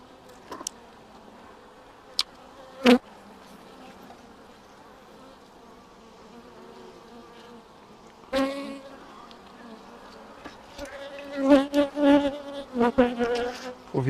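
Honeybee colony in an opened hive, a soft continuous buzz of many bees close by, with individual bees flying past louder near the end and a few knocks from handling the hive.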